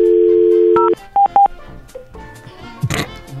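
A landline telephone gives a steady, loud dial tone for just under a second, followed by a few short dialing beeps and then quieter line noise with a brief burst near the end.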